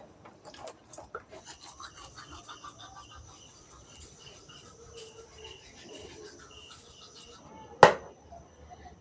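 Toothbrush bristles scrub teeth with a steady rhythmic rasping close by, quiet and continuous, ending in one sharp louder knock near the end.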